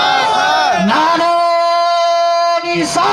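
Crowd at an Urs religious gathering for Khawaja Muzaffar Hussain Purnavi roaring a chant in unison, one loud sustained collective shout that swells, holds steady, then breaks off, with an amplified voice around it.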